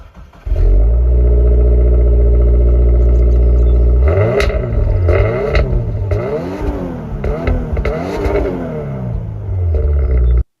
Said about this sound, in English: And then you'll get quad exhaust. Let's take a listen to how that sounds.